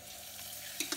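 Cold tap water runs steadily over homemade butter as it is rinsed in a kitchen sink, a soft continuous flow with two brief louder splashes near the end.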